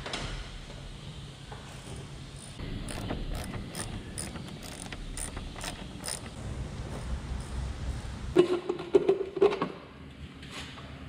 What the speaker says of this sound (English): Just gonna have to take these four bolts out of this box